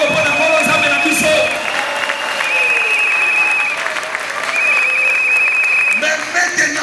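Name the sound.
congregation applauding in church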